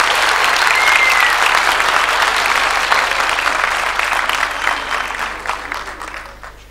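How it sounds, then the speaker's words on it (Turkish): An audience at a film premiere in a mall applauds in a loud, dense burst that slowly thins and fades toward the end, with a faint whistle early on. "Ve alkışlarınızla, kocaman alkışlarınızla"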